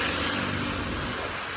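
A car passes along a wet, rain-soaked road during the rainy season, a loud broadband wash of tyre spray and engine noise sustained throughout the short moment, with no talking.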